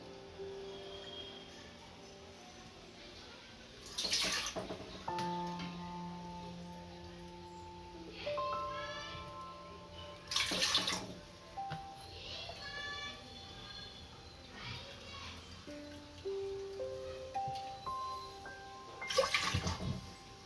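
Water is poured into a cooking pot of washed moong beans in three brief, faint splashing bursts, separated by quiet kitchen background.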